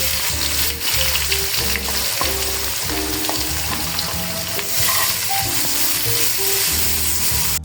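About two cups of chopped onion fry in oil with whole panch phoron for spicy achari chicken: a strong, constant sizzle with repeated rhythmic scrapes of a spatula stirring the pan up close.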